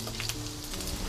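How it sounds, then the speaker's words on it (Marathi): Chopped ginger sizzles steadily in hot oil while cooking a mussel biryani, a close, continuous crackling fry with no talk. "आलं आपल्याला तेलामध्ये चांगलं फ्राय करून घ्यायचं आहे।"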